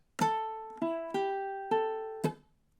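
Ukulele playing measure 2 of a song: five plucked strums in a syncopated rhythm, each ringing clearly then decaying, close and alone, with a short muted beat within the pattern.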